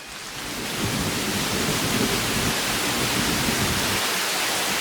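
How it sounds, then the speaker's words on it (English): A dense, steady wash of heavy rain rises quickly and holds, with a low rumble of thunder rolling underneath. "Thunder, again, is spot effects"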